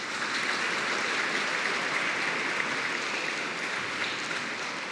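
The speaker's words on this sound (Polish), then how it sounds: "chcecie brawa dla pana kierownika" Steady applause from a school audience at a Polish pupil induction ceremony for the head of the boarding house, a continuous even wash of many hands clapping at moderate volume throughout.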